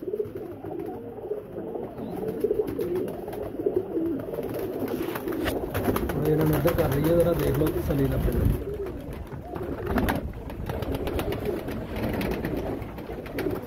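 Highflyer pigeons cooing in a loft, soft repeated coos layered under steady close talk from men nearby.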